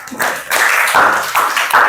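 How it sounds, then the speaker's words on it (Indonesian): Students in a classroom clap for a second-ranked classmate, loud close applause arriving in uneven bursts with brief dips between, no speech over it. "Tepuk tangan untuk Alesya."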